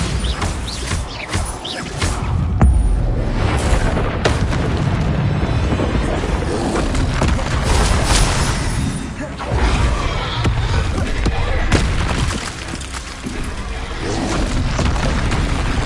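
Fire and blast spells going off in a Hogwarts wizarding video game: dense, loud booms and crashing bursts that come back to back with almost no gap, under a voice that keeps shouting spell names.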